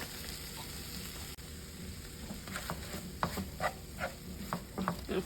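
Sloppy joe meat mixture cooks in a pan over medium-low heat, giving a steady soft sizzle, with a series of scraping stirs from a utensil in the latter half.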